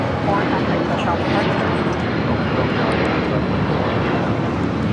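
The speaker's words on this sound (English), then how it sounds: "This is United Airlines 1194 taking off to Newark on the 757-200" A United Airlines Boeing 757-200 jet on its takeoff roll at LAX makes a steady, loud engine roar that fills the whole clip without easing.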